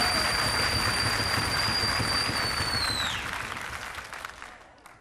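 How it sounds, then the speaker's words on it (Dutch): Studio audience applause at a television game show rolls as a dense steady clatter under a sustained electronic tone, then fades gradually as the clapping dies away. "En mag ik van u uw applaus voor Margot?"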